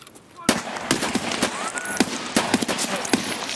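Shotgun blasts ring out in an Escape From Tarkov firefight, about half a dozen sharp, loud reports at irregular intervals, with faint voices and game noise in between.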